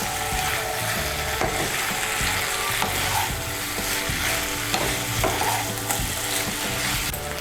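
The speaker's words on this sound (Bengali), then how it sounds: "এখন আঁচটা বাড়িয়ে দিয়ে মশলার সঙ্গে শিমটাকে ভালো করে কষিয়ে নেব।" Flat beans frying with spice paste in a pan over raised heat, a constant close sizzle with a spatula scraping and knocking in irregular strokes, no voices.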